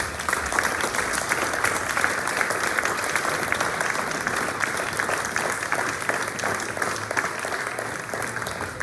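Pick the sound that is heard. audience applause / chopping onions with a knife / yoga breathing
audience applause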